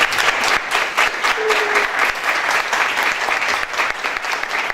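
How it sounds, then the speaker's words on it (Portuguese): An audience at a peace-in-media event claps for a woman being introduced, producing loud, continuous applause with a crowd murmur underneath. "por favor, palmas para ela"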